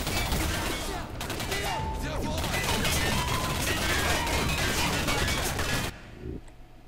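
Rapid, dense gunfire crackles almost nonstop in a first-person shooter, Singularity, with bursts layered over each other at close range before cutting off abruptly near the end, leaving faint low rumbling.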